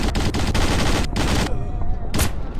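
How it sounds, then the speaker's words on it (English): A burst of rapid gunfire in a first-person shooter game, loud and close, rattling for about a second and a half, then a brief pause before one more sharp shot rings out. "Where did that shot come from?"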